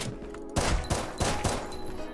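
Colt 45 pistol fire in a Minecraft PvP duel with a guns mod: a rapid string of four or five loud, close synthetic shots in quick succession, with no talk over them.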